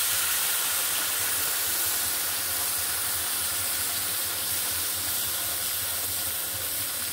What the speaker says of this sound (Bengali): 2 কাপ পানি অ্যাড করব।